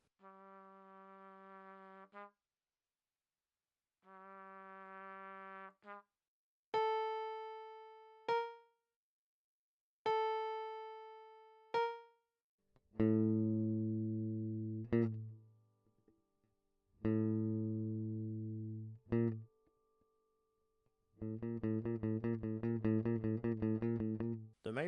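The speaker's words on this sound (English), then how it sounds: "The popular sound made from the minor second is the theme from Jaws." A minor second interval, the two-note Jaws theme, is played as short separate phrases in several clean synthetic timbres. Buzzy sustained tones give way to plucked, quickly decaying notes and then bass-heavy ones, with silent gaps between each phrase.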